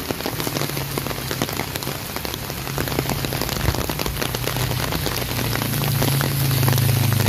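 Steady rain falls on surfaces at the MRT7 construction site near North Avenue, a dense, even patter of drops with a low rumble beneath, slowly growing a little louder, with no talking.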